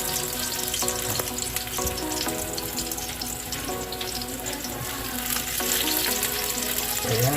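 Ginger, garlic and onion sizzle steadily in a hot pan, a dense continuous frying hiss with occasional stirring clatter throughout.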